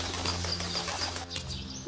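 A pigeon-like bird coos softly in low repeated tones, with a few brief higher chirps above and a sudden sharp noise at the very end.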